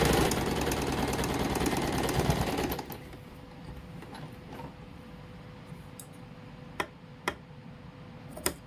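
Sewing machine running a seam on a suit, a steady fast mechanical whir for about three seconds that then stops, followed by quieter handling noise and a few sharp ticks and clicks.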